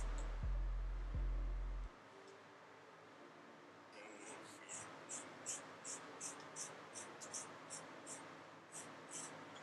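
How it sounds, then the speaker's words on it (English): After a low rumble fades, a rhythmic series of crisp snips repeats steadily as scissors cut hair, close and quiet, about a dozen cuts in a row. "So now I'm gonna cut my hair from the back."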